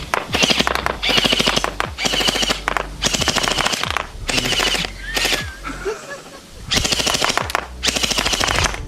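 A Watersoft M19 Orbeez gel blaster fires in rapid automatic bursts, loud buzzing rattles of several shots each separated by short pauses, with brief faint background sounds between bursts.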